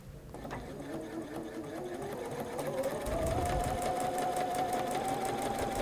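Home sewing machine stitching a quarter-inch seam, one continuous close whir that climbs in speed and pitch partway through and holds steady to the end, with faint room noise underneath.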